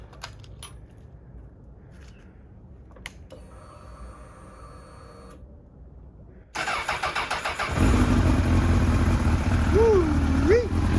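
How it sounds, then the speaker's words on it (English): A wrecked-and-rebuilt Honda CBR1000RR motorcycle is cranked, then its engine catches and roars to life, running loud and close with revving swells toward the end after quieter clicks and brief starter whirring. "Let's give her a crank."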